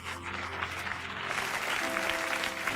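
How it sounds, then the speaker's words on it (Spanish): Congregation at a revival service applauds those who answered an altar call, a continuous patter of many hands that swells slightly, with a low steady hum underneath. "un aplauso para quienes dijeron sí a Jesús"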